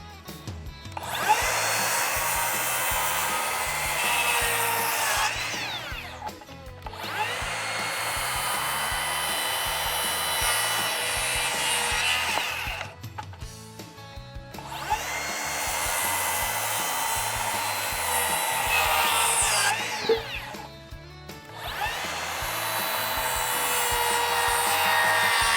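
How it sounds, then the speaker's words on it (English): A power saw cuts scribed lines across a wooden pergola rafter in four long passes, each a loud sustained whining rasp of several seconds separated by brief pauses, close up with no talk. "we'll cut the lines off with the saw"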